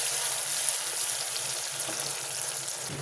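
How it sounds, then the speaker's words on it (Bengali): A paste of onion, ginger, garlic, melon seeds and cashews sizzles softly in a pan while being sautéed, a faint, even crackle throughout with no voices. "পেঁয়াজ, আদা, রসুন, চালমগজ, কাজু বাদাম সব কিছু দিয়ে ভালো করে মশলাটা কষাতে হবে"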